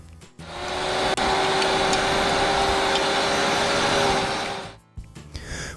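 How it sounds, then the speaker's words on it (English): A garden tiller churns through coarse garden soil, its small motor holding a steady, loud whine with a constant hum for about four seconds before cutting off abruptly. "While I go over it with the tiller"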